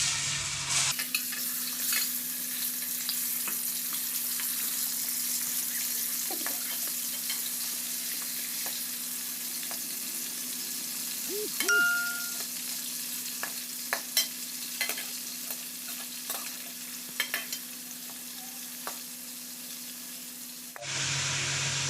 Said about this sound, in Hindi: चिकन फ्राई करने लगे हैं।